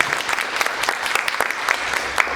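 An audience at a Bogotá conversation event on women's organizing applauds, a dense, lively patter of many hands with scattered voices mixed in.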